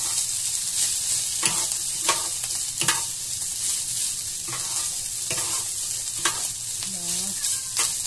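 Fried rice (sinangag) being stirred in a pan for lunch, with steady sizzling and frying under repeated scraping strokes of a utensil, close and fairly loud, no talk.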